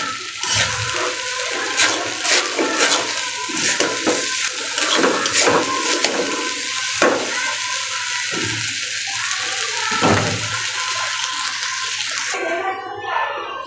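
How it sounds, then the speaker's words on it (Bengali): Rice frying in oil with cinnamon and cardamom for polao, a steady broad sizzle with recurring scraping stirs, close and fairly loud, cutting off near the end. "তেলটা দিয়ে দিব, চালটাকে আমি একটু ভাজা নিয়ে যাচ্ছি।"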